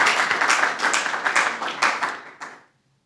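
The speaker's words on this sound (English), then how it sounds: "I'm sure you would like to all clap for them." An audience at a lecture breaks into a short round of clapping, dense and fairly loud for a couple of seconds before tapering off into silence.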